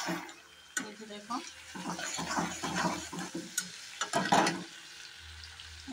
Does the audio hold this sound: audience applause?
no